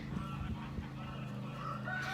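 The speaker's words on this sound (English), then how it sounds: "So he is a Marron rooster." A Marans rooster on a farm makes low clucking and throaty calls nearby, irregular and fairly soft, with no voices present.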